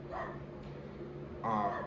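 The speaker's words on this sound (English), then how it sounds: "and there goes Waffles, our corgi, barking." A corgi barks indoors at home, two sharp nearby barks spaced about a second apart with quieter room sound between them.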